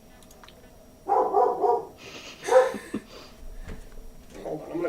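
Several dogs barking indoors in loud, close bursts, with a voice speaking between and over the barks.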